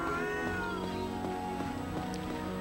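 A cat meowing in the video game The Last Story, several drawn-out, wavering meows over layered game music, fairly clear and close.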